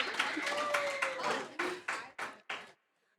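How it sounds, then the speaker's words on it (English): An audience at an open mic claps in a few distinct bursts that grow sparser and stop abruptly, with some voice sounds mixed in. "If we could give like a round of applause and a congratulations."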